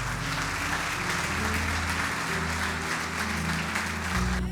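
Sustained clapping from a crowd at a religious gathering fills the space continuously, mixed with steady background music and a faint voice.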